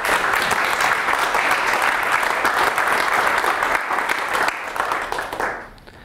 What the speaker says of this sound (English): let's give everyone that's contributing back a round of applause as well